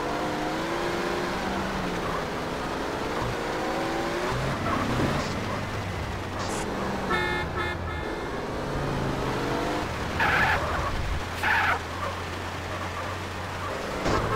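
Car engine and tire skids in Grand Theft Auto: San Andreas, a steady drone with harmonic whine, plus several brief screeches near the end, continuous and fairly loud.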